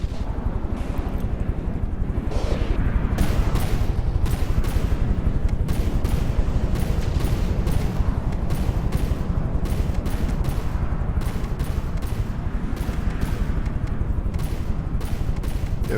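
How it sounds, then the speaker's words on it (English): Relentless barrage of shots striking and glancing off ship shields in a space battle video game, with dense rattling bursts packed together from start to finish, loud and unbroken. "See all these shots just getting completely deflected by the shields."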